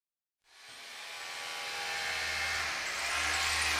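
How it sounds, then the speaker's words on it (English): A drill starts up and bores a hole to pass an endoscope through, the whirring grinding noise rising in intensity and holding steady, fairly close, with no talk over it. "the drill is going in now, and the endoscope will go through that"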